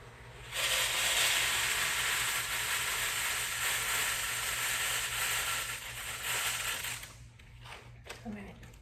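Dry rice grains pour steadily into a plastic bottle for a homemade rainstick calming bottle, a dense continuous hiss that holds for about six seconds before thinning into scattered last trickles.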